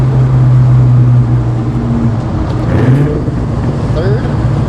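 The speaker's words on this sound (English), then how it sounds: "Downshifts right here." A loud cammed, Whipple-supercharged Terminator Cobra engine drops a gear, its deep droning exhaust note shifting pitch and holding steady as it revs close by, with no talk over it.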